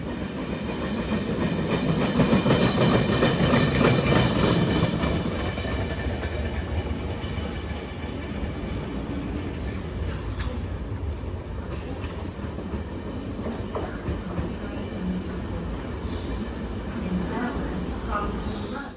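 A train pulls out of Cardiff Central station, a steady broad rumble of engine and wheels that swells early and then holds at a level roar, with a few faint clicks and squeaks on the rails.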